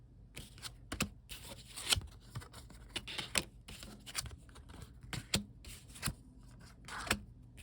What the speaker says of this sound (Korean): 현재 상황 어떨지 간단하게 카드 뽑아볼게요